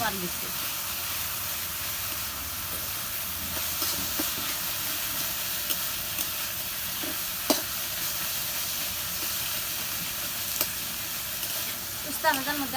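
Okra frying in a pan gives a steady, fairly loud sizzle and hiss throughout, with occasional sharper crackles and stirring clatters, while voices are heard now and then.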